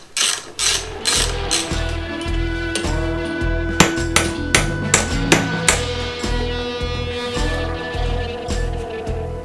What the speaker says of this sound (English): Pop these bolts out so I can actually pull the battery out.